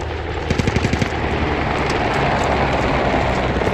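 A rapid burst of automatic gunfire from a helicopter in the video game Squad over a constant mechanical rotor-like roar, loud and close, with the droning continuing after the shots stop.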